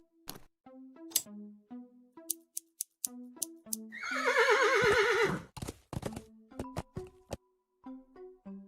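A horse whinnies in the video game Willy Morgan and the Curse of Bone Town: a loud, wavering neigh of about a second and a half, set among scattered clicks and clip-clop-like taps from the game scene.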